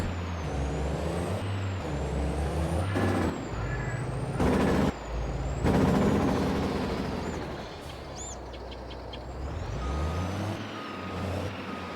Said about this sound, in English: And then we can just drive our truck.